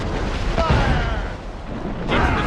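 Ship cannon fire during a naval battle in Assassin's Creed Rogue: a loud, sustained roar of booming blasts with a sharp burst near the start and another around the two-second mark, over dense background noise.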